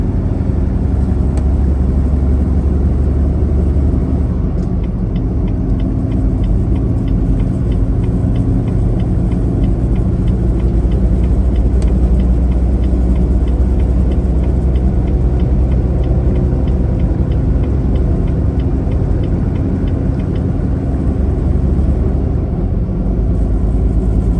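A car cruises along an interstate highway at night, a steady low engine and road rumble with constant tyre noise filling the cabin throughout, no talking.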